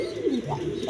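Danish pigeons cooing close by, a few low rising and falling coos in quick succession over a quiet background.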